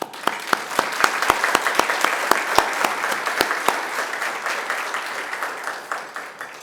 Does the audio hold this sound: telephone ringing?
no